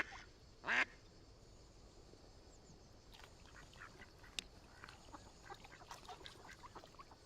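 A white-faced whistling duck gives a short, sharp whistled call near the start, followed by fainter scattered bird notes over a quiet outdoor background.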